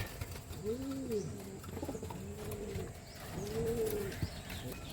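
Several racing pigeons at a loft coo in soft, rolling phrases, repeating every second or so over a steady background hum.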